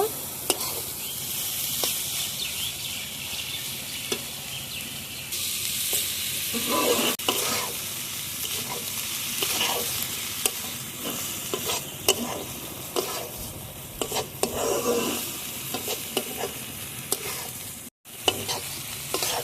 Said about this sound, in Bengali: শুকনো মশলাগুলোর সঙ্গে সবজিটা ভালো করে মিশিয়ে নেব